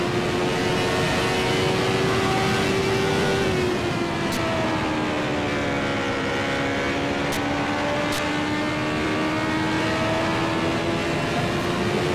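CART Indy race cars scream through the turns at a 1988 race. A loud, sustained high engine whine drops slightly in pitch partway through, with several brief sharp transients on top and no voices.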